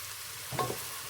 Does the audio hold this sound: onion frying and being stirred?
yes